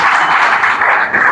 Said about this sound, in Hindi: इसके लिए भी जोरदार ताली होनी चाहिए।